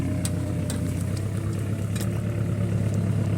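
A homemade tractor powered by a Ch4 diesel engine drags logs under heavy load, its low, steady engine drone close and continuous, with a few faint clanks over it and no talk.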